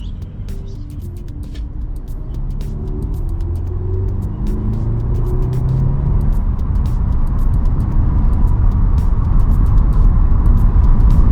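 A 2007 Subaru WRX driving on the road after a brake pad and rotor install, steady engine and tyre rumble building gradually, close and loud, with no one speaking.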